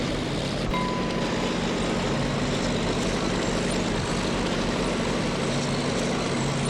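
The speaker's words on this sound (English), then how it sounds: "Oh, airplanes." Propeller aircraft drone steadily overhead in the WWII tank game Steel Fury, a continuous broad engine roar holding even and fairly loud throughout, with no talking.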